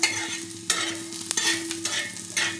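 Homemade masala spices with fresh coriander roasting in a hot pan for a village-style drumstick curry, a spoon scraping and stirring in short strokes over a low steady sizzle.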